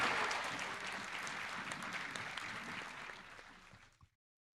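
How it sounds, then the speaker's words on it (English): Steady applause from an audience at the Crypto Expo Europe 2024 event, a broad patter of many hands at moderate distance that slowly fades, then cuts off abruptly into silence. "Huge round of applause."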